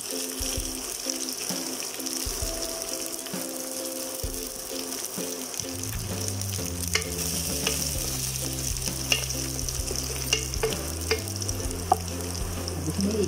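Onions sizzle and crackle steadily in a hot pan while cooking a quail curry, with occasional scraping and stirring clatter from a utensil.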